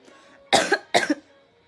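Two sharp coughs in quick succession, close and fairly loud, with a short pause between them and quiet before and after.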